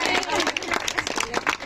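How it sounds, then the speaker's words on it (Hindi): Applause and cheering at a school farewell for 12th class students, a dense crowd clapping loudly and steadily throughout, close and continuous with voices mixed in. "जोरदार ताली बजाएं"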